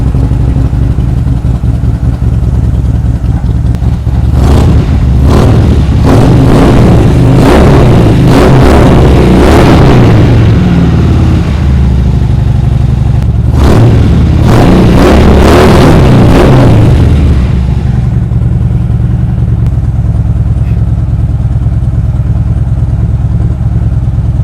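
A parked motorcycle engine idles with a steady low rumble, then is blipped repeatedly in quick, sharp revs in two clusters before settling back to idle, loud and close with no talk.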